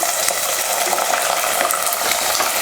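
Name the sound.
frying small onions and garlic with cumin and fenugreek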